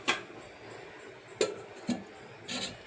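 A lid set onto a cooking pot, giving a sharp metallic clink, a couple of softer knocks and a faint rattle as it settles, heard close in a quiet kitchen.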